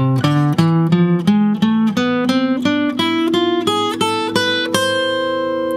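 An electric guitar plays an exotic minor scale up about two and a half octaves, one plucked note after another at an even pace, ending on a ringing higher note, with no voices.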